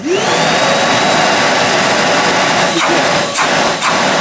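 A Bosch GAS construction vacuum cleaner is switched on and runs with a loud, steady, broadband roar close by, with a couple of brief airflow shifts near the end.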